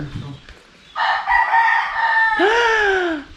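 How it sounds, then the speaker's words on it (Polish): A rooster crows loudly and close by, a drawn-out cock-a-doodle-doo ending in a falling wail, near El Limón Waterfall on the Samaná Peninsula, Dominican Republic, with faint background noise before it. "jakaś kura albo coś"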